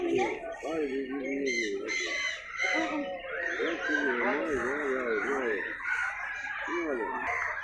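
A flock of birds calls outdoors with clucking, crowing fowl-like cries that come in repeated bursts, close and moderately loud, mixed with people's voices.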